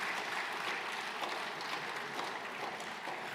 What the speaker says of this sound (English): Big round of applause for all of our adventurers.